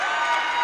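Basketball crowd at an Omaha Central vs Bellevue West boys state tournament game applauding players coming off on a mass substitution, a dense, steady wash of clapping and cheering throughout a brief moment.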